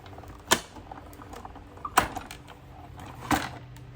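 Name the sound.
die-cutting machine cranking a die through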